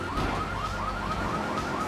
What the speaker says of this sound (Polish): ale alarm, alarm już mógłby się wyłączyć